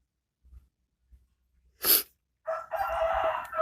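A free-range village rooster crows once nearby, a short loud burst followed by a longer drawn-out call, with a few faint thumps before it.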